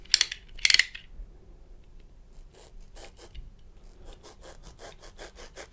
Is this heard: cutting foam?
yes